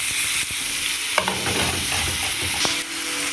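Minced onion and garlic fry in oil in a baking tray as they are stirred. A bright, steady sizzle runs under repeated utensil scrapes and knocks, close and fairly loud, with no voices.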